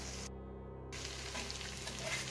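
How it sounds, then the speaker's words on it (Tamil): Elephant yam slices fry in oil over a low flame, giving a steady, soft, close sizzle with no talking and a brief dropout near the start. "இப்போ சிம்லேயே வச்சு நம்ம ஃப்ரை பண்ணலாம் இது வறுத்து வரட்டுங்க"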